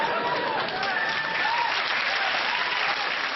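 A television studio audience claps steadily and loudly, a dense even wash of applause that carries through the whole stretch with no break.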